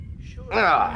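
Lily, a pet cat, gives a single drawn-out meow with a falling pitch in the second half, close and fairly loud after a low murmur.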